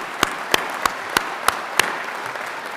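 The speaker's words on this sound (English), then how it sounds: "So please give them a round of applause." An audience at the grand opening of a Vietnam veterans memorial claps in a slow, even rhythm. Six sharp, distinct claps land about a third of a second apart over a soft crowd hiss.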